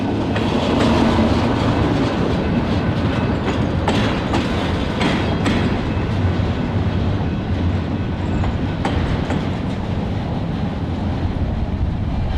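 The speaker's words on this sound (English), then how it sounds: "Here, the train is heading north on its way to Fairgrounds Yard." A Paducah & Louisville Railway freight train heading north toward a yard rolls past close by, a loud continuous rumble with rhythmic clickety-clack of wheels over rail joints.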